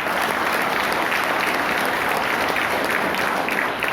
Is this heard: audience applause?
yes